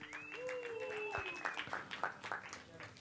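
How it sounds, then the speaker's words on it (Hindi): An audience claps for Bajirao Mastani at the song launch, scattered applause rising under a voice, with a held tone at the start and the clapping growing denser toward the end. "सो बाजीराव मस्तानी के लिए एक बार जोरदार तालियां हो जाए प्लीज"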